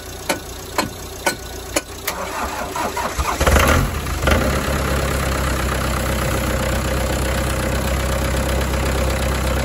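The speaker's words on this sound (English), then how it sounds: "I'm going to put the boost pack on it as well." An old van's engine is cranked with a boost pack: a few sharp starter clicks and cranking bursts, then the engine catches and settles into a loud, steady idle close by.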